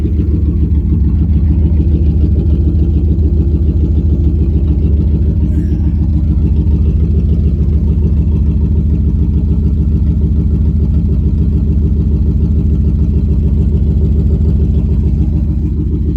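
A 1997 Dodge Ram engine runs through its exhaust in a steady, loud, close low rumble that holds evenly for over sixteen seconds with no talking.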